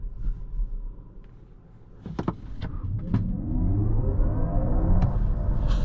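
A 2024 Kia EV6 Wind electric car accelerates hard with a little wheel spin, its rising electric motor whine and road rumble building loud and close from a quiet start.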